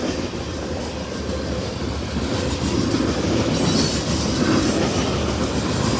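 A freight train rolls past on railroad tracks in Indiana or western Kentucky, a loud, steady rumble of wheels with rhythmic clickety-clack and occasional wheel squeal, heard up close and without talking.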